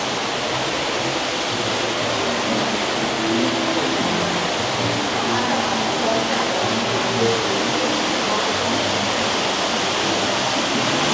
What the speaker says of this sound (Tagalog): Ito yung waterfall effect.